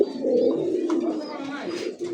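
A male pigeon at a breeder's farm coos in low, throaty, rolling calls, close and steady across the moment, with a faint chirp and some background voices from people nearby.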